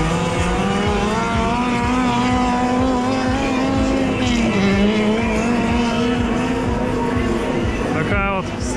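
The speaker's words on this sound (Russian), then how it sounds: "Такая вот снежная трасса, автомобили уходят в занос." Cars drifting on a snowy track at the Ice Mile event in -40 frost give off a steady, loud engine drone that rises and falls in pitch, with a brief squeal near the end and someone talking over it.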